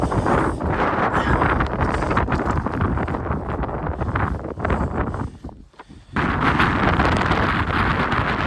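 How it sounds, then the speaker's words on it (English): Strong gusting wind buffets the microphone on an exposed mountain ridge near the summit of Capitol Peak's North Ridge, a loud continuous roar that drops briefly before surging back at full force. "Lots of wind."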